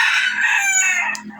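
A rooster on a small farm raised for sale crows loudly and close by in one long, drawn-out call that tapers off at the end.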